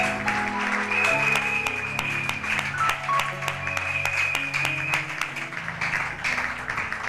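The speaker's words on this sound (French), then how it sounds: "Est-ce qu'on va acclamer pour lui?" Audience in a church gathering applauding an interpreter, dense sustained clapping from many hands filling the room, steady and fairly loud throughout with a voice faintly heard beneath.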